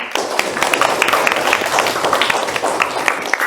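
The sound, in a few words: class clapping for group 2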